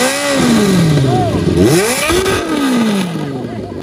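A big motorcycle fitted with a tin-can exhaust revs hard, its pitch sweeping up and down in loud rising and falling surges for a few seconds, close and dominant throughout.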